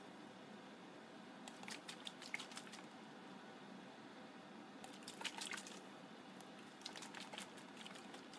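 Spoon stirring a water-testing sample mixture in a container, heard as quiet, intermittent bursts of liquid swishing and light clinking that come and go, close and alone, with no talking.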